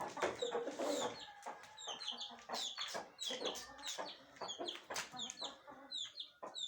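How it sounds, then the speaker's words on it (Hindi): An aseel hen clucking repeatedly in short, high bursts, close by, with scattered rustling and a few other bird calls, including pigeons, around it. "ये जनाब, ये आई है मुर्गी।"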